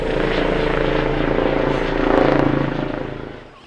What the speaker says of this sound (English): that ruddy great helicopter is going to land on us